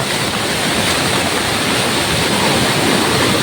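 Rushing rainwater pours in a dense, unbroken roar over a village road during a heavy storm with strong winds, loud and close throughout with no voices.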